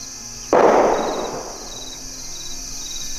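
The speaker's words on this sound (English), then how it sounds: "Shooting a pistol." A single pistol shot fired on rural Kansas hunting land, a sharp report followed by a long echoing decay, heard at a distance over a steady outdoor background.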